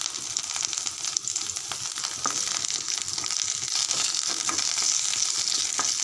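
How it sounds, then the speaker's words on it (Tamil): Coriander leaves, tamarind and half an amla sauté in a pan for a peanut chutney, giving a dense, steady close-up sizzle with occasional soft stirring scrapes and small crackles throughout. "ஒரு 2 நிமிஷம் நல்லா வதங்கட்டும்."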